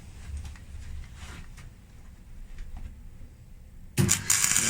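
A cheap arc welder strikes up while tack welding a broken winch clutch lever, a sudden harsh crackling buzz that bursts in near the end after a stretch of quiet background rumble.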